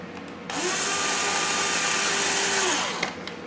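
A drill bores out a hole in a QuadLugs Mini+ frame, one loud sustained whine lasting about two and a half seconds, close up, with pitch shifting as the bit bites and then spinning down.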